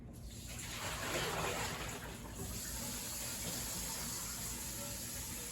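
Rinse water pours and splashes steadily off sushi rice into a sink, a continuous wet gushing that swells early and then runs on evenly without any talk.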